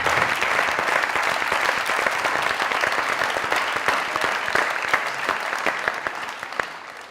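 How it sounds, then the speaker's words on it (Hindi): A studio audience at a Pakistani comedy talk show rises for a standing ovation, with loud, dense, sustained applause and clapping that holds steady for the whole stretch and tapers only slightly toward the end. "जरा उठ के उनके लिए तालियां, ज़िया साहब के लिए जरा स्टैंडिंग ओवेशन प्लीज"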